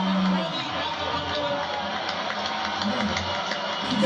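Comedy club audience clapping and cheering at a live stand-up show, a dense steady wash of many hands with scattered whoops, loud and continuous throughout.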